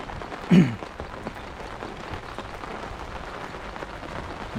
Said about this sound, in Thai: บรรยากาศฝนตกนะครับวันนี้